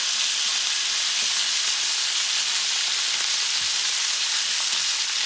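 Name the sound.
pork chop frying in butter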